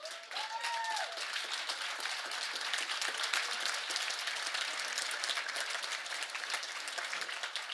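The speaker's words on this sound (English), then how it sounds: "Let's stand up and give him a round of applause." A standing audience at a young adult forum claps in a sustained, fairly distant round of applause, with a brief vocal whoop near the start.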